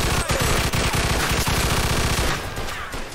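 Loud, rapid automatic gunfire in the Mafia II video game, a dense burst of closely spaced shots that tapers off near the end, with no talk over it.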